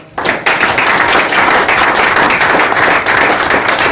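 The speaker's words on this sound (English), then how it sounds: "let's give them another round of applause" Audience at a school board meeting giving a round of applause, which starts abruptly after a brief quiet moment and carries on as loud, dense clapping to the end.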